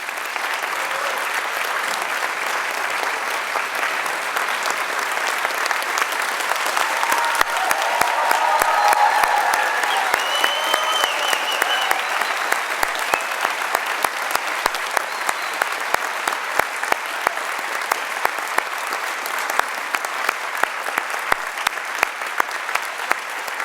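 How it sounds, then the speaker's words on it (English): A large audience at a 2014 university commencement ceremony claps at length, a loud, sustained wash of applause that swells midway and continues for over twenty seconds. "Don't clap again."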